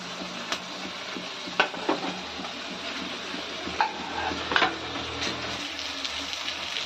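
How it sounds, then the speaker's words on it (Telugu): Garlic and two roughly chopped onions frying in oil in a pan for an okra masala, a continuous sizzle broken by several sharp clinks and scrapes of stirring. "ఇప్పుడు ఇందులోకే వెల్లుల్లిపాయలు వేసుకుంటున్నాను అలాగే పెద్దగా తరుక్కున్న రెండు ఉల్లిపాయలు వేసుకుంటున్నానండి"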